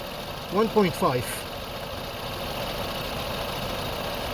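A car engine idles roughly and shakes with its oxygen sensor disconnected, a steady mid-low drone throughout; someone speaks briefly near the start, then the idle continues alone.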